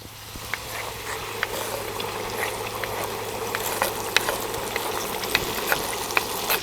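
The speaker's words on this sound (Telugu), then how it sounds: "ఈ చింతపండు గుజ్జు పచ్చివాసన పోయేదాకా వేయించుకోవాలి" Tamarind pulp for a cauliflower pickle fries in a pan, giving a steady close sizzle with small scattered pops throughout and no talk.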